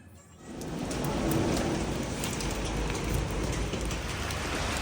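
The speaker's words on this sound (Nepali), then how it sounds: "हङकङको चाहिँ वेदर यस्तो छ अहिले एकदमै पानी परेर" Heavy rain pours steadily in Hong Kong near the Jordan vegetable market, a dense continuous hiss of drops striking surfaces that swells after the first half second and holds loud throughout, with no voices.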